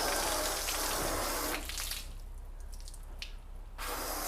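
A hose on shower-spray setting wets a car with a ceramic-coated panel, giving a loud, hissing spray. It cuts off midway, leaving faint drips and trickles, then the spray returns.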